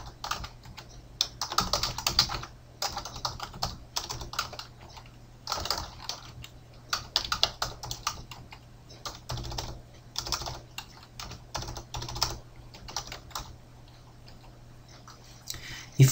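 Computer keyboard keys clatter in quick, irregular bursts of clicks and pauses during manual data entry into a fixed-asset spreadsheet, close and moderately quiet over a low steady hum.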